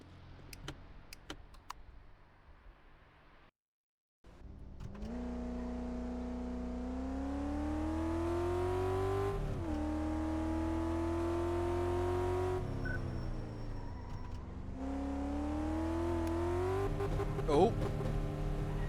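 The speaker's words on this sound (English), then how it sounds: "Take a quick test drive." A car out on a test drive in Car Mechanic Simulator 2014, its engine droning steadily and rising in pitch as it accelerates, with a short drop to silence near the start and faint talk over the opening.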